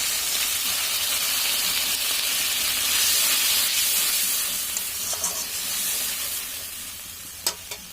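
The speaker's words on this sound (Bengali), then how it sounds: "এবার আমি দেবো এর মধ্যে সমস্ত জল।" Water goes into a hot pan of rohu fish curry with potato and pointed gourd, bursting into a loud hissing sizzle and steam that slowly eases, with a couple of sharp utensil knocks near the end.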